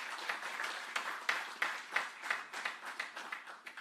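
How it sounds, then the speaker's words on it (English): An audience at a launch event claps in a rhythmic pattern of regular beats, moderately loud and without voices over it. "Give them a round of applause, please."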